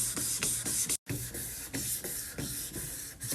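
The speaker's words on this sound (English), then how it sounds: "you're going to do left to right motions with your 400 grit sandpaper." Steady back-and-forth rasping of 400-grit sandpaper rubbing a plastic car headlight lens in left-to-right strokes, a quick rhythm with one brief pause, close and fairly loud.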